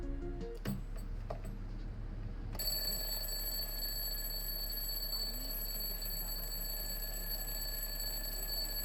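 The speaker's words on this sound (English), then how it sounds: "I replaced it with an old-fashioned alarm clock" An old-fashioned alarm clock starts ringing after a few faint knocks and clicks, then keeps up a steady, loud, continuous metallic ring close by with no talking.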